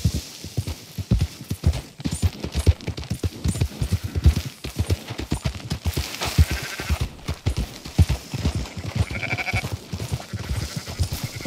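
Sheep bleat now and then in Red Dead Redemption 2 while a steady clip-clop of horse hooves runs throughout, with the bleats rising more clearly near the end.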